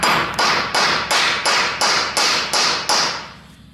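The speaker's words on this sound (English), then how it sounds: "So just take a hammer and just hit on that side." A hammer strikes a welding setup of 2-inch Schedule 160 pipe to close the root gap before tacking, giving eight loud, evenly spaced metallic blows about every third of a second, each ringing briefly before the next.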